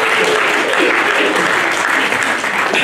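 A church congregation claps loudly and steadily in praise of the baby Jesus, a thick, continuous wash of applause from a full crowd.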